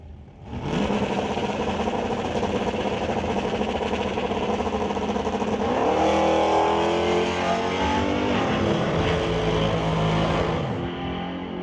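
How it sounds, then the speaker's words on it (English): Drag race cars launch side by side at a pro race, their engines roaring loud and close and rising in pitch as they accelerate hard off the line, the sound carrying on for about ten seconds before easing off. "Now we'll roll up Chris Stone racing against Jim Benke."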